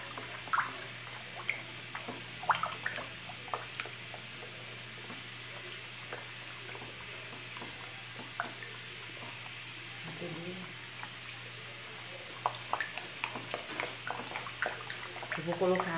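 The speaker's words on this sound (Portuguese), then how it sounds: "O barulho que vocês estão ouvindo no fundo aí é minha panela de pressão" A pressure cooker hisses steadily in the background of a home kitchen while beet and coconut bar soap is made, a faint constant hiss with occasional soft clinks and drips, under someone talking.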